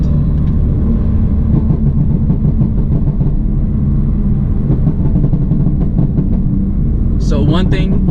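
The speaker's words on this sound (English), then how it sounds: "when you blip the throttle just a little bit while you're still rolling, it will continue to burble" A BMW F80 M3 or F82 M4 with an MHD burble tune and catless downpipe idles and rumbles steadily, with crackling exhaust pops toward the end.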